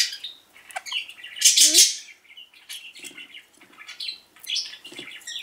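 Close, harsh squawks and chirps from small pet birds eating broccoli come in scattered bursts, with light rustling and pecking between calls.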